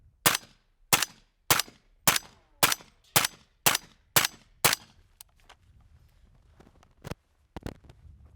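A Q BoomBox PDW fires subsonic rounds in a steady string of about nine evenly spaced, sharp, close reports, followed by a few scattered quieter shots.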